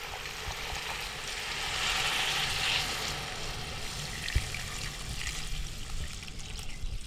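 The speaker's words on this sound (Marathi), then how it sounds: "ह्याच्यात असं पाणी ओतायचं" Water is poured into a pan of frying brinjal, potato and drumstick pieces, giving a steady hissing sizzle with a liquid splash early on, close and continuous with a few small knocks.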